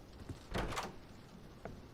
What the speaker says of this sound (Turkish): Kapıyı çalıyorlar.